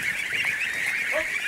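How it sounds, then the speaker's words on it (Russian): Young geese honk continuously in a farmyard, a steady close chorus of nasal calls with a louder honk near the end, no talk. "Вот так вот быстро растут гуси."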